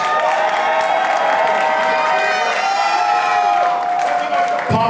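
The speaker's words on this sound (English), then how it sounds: "please give a round of applause to Law Roach" An audience cheers and applauds for Law Roach at an event, a dense, sustained wash of crowd noise with whoops and shouts throughout, fairly loud and close, with voices mixed into the roar.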